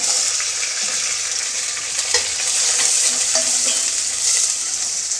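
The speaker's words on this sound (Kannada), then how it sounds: "ಇವಾಗ ಇದನ್ನು ಒಂದು ಸ್ವಲ್ಪ ಫ್ರೈ ಮಾಡ್ಕೊಳ್ತೀನಿ" Chopped onion, curry leaves and green chillies fry in a pan for a chavali kayi palya, giving a loud, steady, close sizzle with faint scrapes of stirring and no voices.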